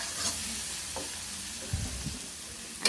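Onion and spices frying bhuna-style in a pan for catla fish curry, a steady low sizzle with a few soft stirring knocks, close and alone.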